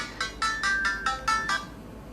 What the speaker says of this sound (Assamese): এটা ফোন এটা আহিছে আমি ফোনটো উঠাই লওঁ নেকি